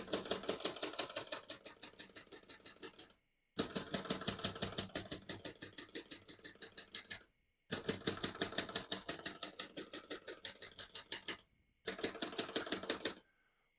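A 1942 Remington Premier portable typewriter types in fast, even bursts of crisp mechanical keystrokes, each run lasting a few seconds and separated by brief pauses, close and clear with no talk.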